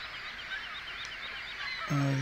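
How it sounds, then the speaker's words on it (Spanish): Goose-like honking birds in the Syberia video game, a brief loud honk near the end over a bed of chirping and twittering calls. "aquí vamos a ver los pájaros"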